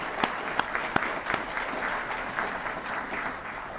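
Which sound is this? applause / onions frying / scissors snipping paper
applause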